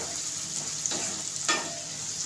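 Homemade turmeric and red chili masala sizzles steadily in a hot frying pan while a spoon stirs it. Two scraping strokes cut through the continuous close hiss.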